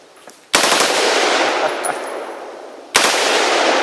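A suppressed M16 rifle firing on full auto, two sharp-onset bursts of rapid, closely spaced shots, the first lasting over two seconds and fading, the second starting abruptly near the end, loud and close.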